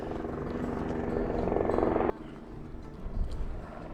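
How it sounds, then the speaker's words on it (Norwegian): Helicopters fly over a mountain plateau at Hardangervidda during a reindeer hunt, a continuous loud rotor drone that cuts off abruptly midway, leaving quieter wind and rumble. "Nå kommer det flere helikopter, ser vi."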